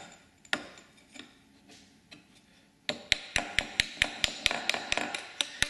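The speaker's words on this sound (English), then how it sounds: "we may need to tap it in because of the burrs from the holes" Steady metal taps drive 7/8-inch tubing into 1-inch aircraft tubing during an ultralight build, beginning with a few scattered knocks and then a rapid, regular run of about a dozen sharp, close hammer taps.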